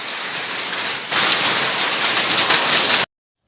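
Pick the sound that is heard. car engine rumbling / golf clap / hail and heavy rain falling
hail and heavy rain falling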